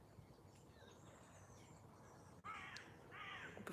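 Crows cawing outdoors in a natural setting: a quiet ambient stretch, then from mid-clip several loud, harsh caws ring out close by over a low background hiss, with no talking.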